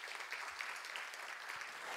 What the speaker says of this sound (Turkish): Kuvvetli bir alkış alalım mı konuşmacılarımıza?